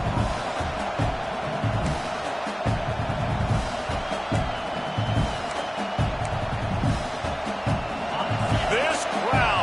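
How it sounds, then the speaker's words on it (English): Stadium crowd noise in a college football video game: a sustained, loud roar running throughout, layered under a play-by-play commentator's voice. "This crowd, full throat, splitting the eardrums and letting them know it's going to be a long day."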